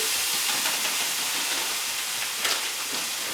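Frozen corn sizzling in a pan on a woodstove produces a loud, steady hiss of steam and frying that carries evenly throughout, with no pauses.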